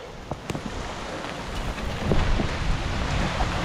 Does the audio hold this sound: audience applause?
no